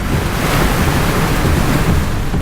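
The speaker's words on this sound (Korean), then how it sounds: "시간이 갈수록 점점 거세지는 파도." Rough, worsening sea surges continuously against a fishing boat out on open water during net hauling, a loud, dense wash of breaking waves and spray with wind roar and no pauses.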